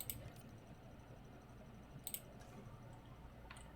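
Sharp clicking from Jurassic World Evolution 2 game audio, a suspected glitch: a few isolated crisp clicks at irregular intervals over a very quiet low hum, with no talk.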